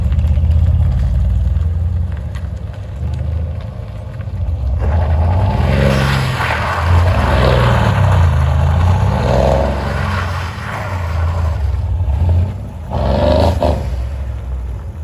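An Alfa Romeo's engine roars close and loud, rising and falling through several revs over a steady idle-like base.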